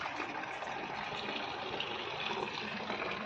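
Water from a direct municipal supply line pours steadily into a large storage tank, a continuous, even rushing gush with no breaks, close and moderately loud.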